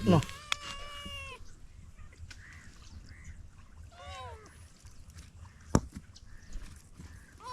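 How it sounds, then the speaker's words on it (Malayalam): Cats meow several times in a rural lakeside setting in Kerala during kayal fishing, with rising and falling cries at close range near the start and again midway, while people talk. "മൂന്ന് പൂച്ച"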